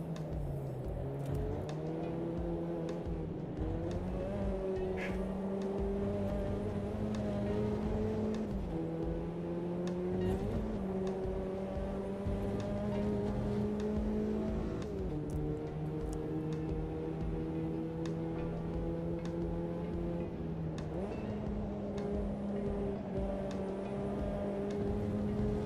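Mazda MX-5 race car engine in a sim racing game, a steady throaty drone that climbs in pitch through the gears, with shift dips every few seconds and no talk over it.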